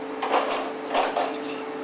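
A cooking pot (cocotte) handled in a kitchen, giving a few sharp metallic clinks and knocks spaced irregularly, close and fairly crisp, with no talk.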